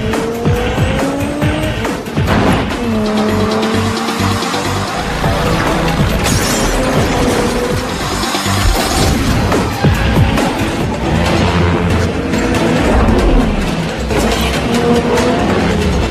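Car chase from Fast Five: loud, dense roar of racing engines with squealing tires, skids and crashing impacts over driving music, sustained the whole way.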